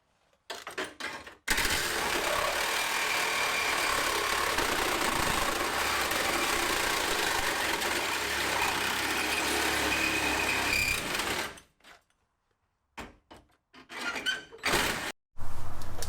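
Battery Sawzall reciprocating saw cutting through the front sheet metal of a Toyota, a loud steady buzzing cut lasting about ten seconds before stopping, followed by a few short bursts and clatter.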